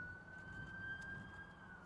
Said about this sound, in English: Siren's going off, everybody.